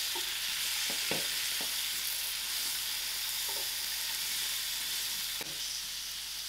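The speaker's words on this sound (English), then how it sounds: "To this masala, I'm going to add in my potatoes." Potatoes sizzle loudly in hot frying masala for a pilchard and potato curry, a dense continuous hiss with a few soft stirring knocks and scrapes.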